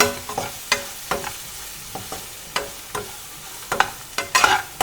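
Spices with dry coriander are stirred and fried in a pan for Garhwali aloo thichod: a soft sizzle under irregular, close spatula scrapes and taps against the pan.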